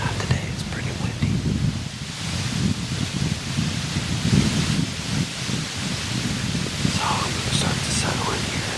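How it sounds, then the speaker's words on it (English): Gusting wind roars and buffets steadily outdoors during a New York archery deer hunt, a loud broadband rush that rises and falls throughout. "It's pretty windy."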